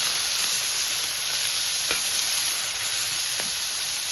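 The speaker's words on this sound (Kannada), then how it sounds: "ಮಧ್ಯಮ ಉರಿಯಲ್ಲಿಟ್ಟು ಬೇಯಿಸ್ಕೊಳ್ಳಿ, ಇಲ್ಲಾಂದರೆ ಸೀದೋಗುತ್ತೆ." Capsicum bhurji frying in a pan over medium heat gives a steady, close sizzle with a couple of brief stirring scrapes and no talk.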